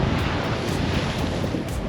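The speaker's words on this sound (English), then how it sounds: "It's super windy here today." Strong wind buffets the microphone on a beach at Hiriketiya, Sri Lanka, with a continuous loud roar of rushing air over crashing surf and no voices.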